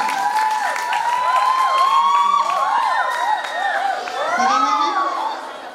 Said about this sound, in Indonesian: kita kasih tepuk tangan yang meriah untuk ketiga paslon kita hari ini